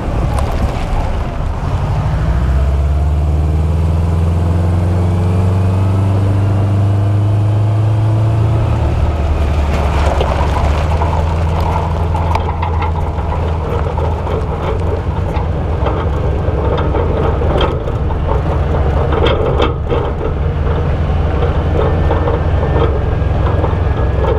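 Steady, loud interior road noise from a van on a bumpy dirt road running all-terrain tires, a constant low rumble with rattles and jolts throughout, no talking.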